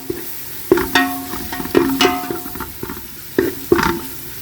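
Spice powders frying in oil for chicken sambar, a sizzle punctuated by repeated sharp metallic taps and scrapes of a spoon against the pan, irregular and fairly loud and close.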